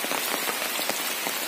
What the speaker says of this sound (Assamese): বৰষুণ আহিছে সেইটো কাৰণে ৰখিলোঁ